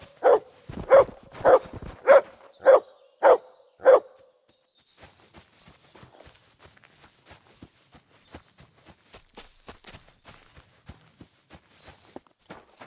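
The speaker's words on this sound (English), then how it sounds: "Good dog, Mutt. Show me" A dog in the medieval video game Kingdom Come: Deliverance II barks six times in a steady, loud rhythm. Faint footsteps and soft shuffling follow once the barking ends.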